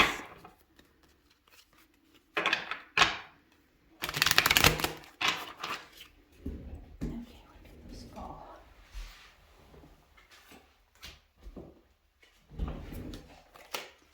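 Cards riffle and shuffle in several short, brisk bursts with pauses between them, close by and fairly quiet.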